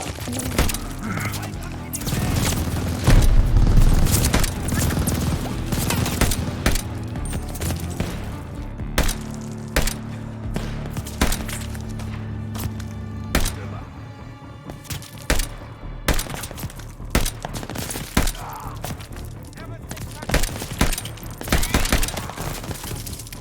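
Gunfire from a weapon in the video game Call of Duty: Vanguard, loud and repeated as sharp cracks and bursts over a thick bed of game music and effects.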